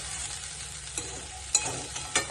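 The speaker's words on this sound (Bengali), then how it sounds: "এবার আমি ভালো করে নাড়া দেবো দিয়ে নামিয়ে নেব" Spring onion greens and potato sizzle softly in a frying pan as a spatula scrapes and stirs in three or four distinct close strokes.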